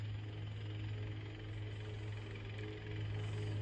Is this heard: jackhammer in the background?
yes